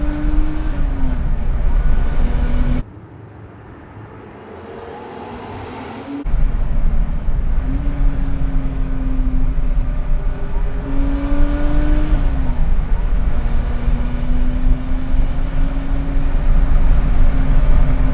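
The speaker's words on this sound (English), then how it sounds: "get into a downshift because it sounds so good" A 600 hp turbocharged 1974 BMW 2002 with a hot-rodded M3 powertrain revs hard, drops briefly as it downshifts, then climbs again with a throaty, rising roar, loud and close, with no talking.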